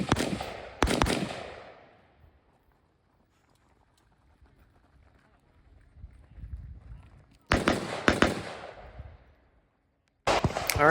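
Rapid bursts of AK rifle fire with a factory gas piston, loud and close, come in three separate strings with quiet gaps between them.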